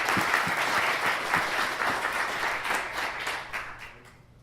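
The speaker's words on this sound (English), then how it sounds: "So another round of applause." Audience applause at a business mastermind meeting, a dense steady clapping from a room of people that holds strong for several seconds, then starts to thin and fade toward the end.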